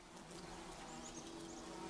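Faint buzzing of bees swarming around a dead griffin's carcass in the game The Witcher 3, a thin steady drone under low ambient background noise.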